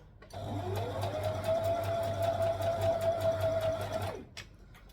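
Sewing machine hemming the bottom edge of a Tulip Tee knit top front, one steady close run of about four seconds that ramps up to a rapid even hum and stops abruptly.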